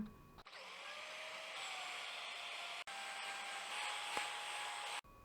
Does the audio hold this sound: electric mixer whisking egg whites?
yes